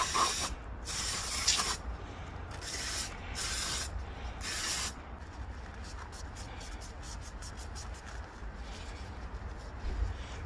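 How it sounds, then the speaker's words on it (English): Brake cleaner sprayed onto a car engine part during an oil and filter service, several loud hissing aerosol bursts at first, then a quick series of short spurts, close up. "I'm gonna clean it with the brake cleaner."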